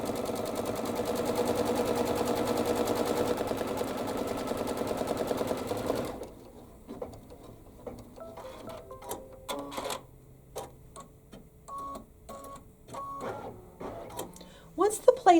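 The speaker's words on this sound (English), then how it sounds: "it is going to stitch out the placement line" An embroidery machine stitches a placement line through two layers of stabilizer for a reverse appliqué notebook cover, a rapid, even mechanical chatter for about six seconds, followed by quieter handling sounds and a voice talking.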